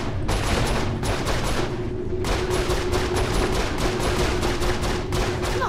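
Rapid turret gunfire in Saints Row 4 hammers on in dense, continuous bursts with one short break, loud and close with no voices over it.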